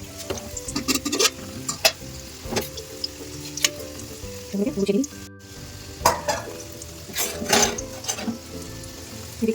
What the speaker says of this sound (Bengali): আলু ভাজাও প্রায় হয়ে গেছে